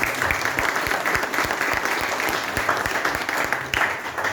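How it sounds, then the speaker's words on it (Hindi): An audience at an Urdu poetry gathering, a mushaira, bursts into dense, sustained applause that holds loud and steady throughout. "एक बार अपने लिए भरपूर तालियां बजाएं"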